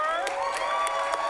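A live improv comedy audience cheers and woos together, a sustained crowd roar punctuated by several loud whoops rising out of the mass of voices.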